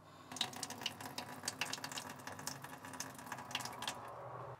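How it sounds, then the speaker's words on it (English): A Winnebago Revel RV faucet runs a little, with a steady trickle and splash of water into a sink heard up close for several seconds, with no voices. "test number two, with the faucet turned on only a little."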